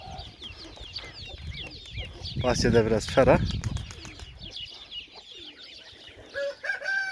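Chickens cluck and birds chirp around a farmyard with geese, a person speaking briefly in Turkish over the busy background of poultry calls.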